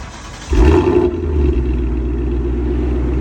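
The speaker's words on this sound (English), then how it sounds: "We're going to get us a start up of that vehicle" A 2019 Ford Mustang GT PP1 with its Coyote V8 cranks and fires up with a loud burst, then settles into a steady, deep rumbling idle close by.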